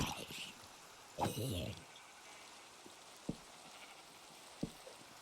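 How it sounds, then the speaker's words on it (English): A sheep in Minecraft gives one short, soft bleat early on, followed by scattered faint clicks and taps from the game at low volume. "Ooh, a sheep."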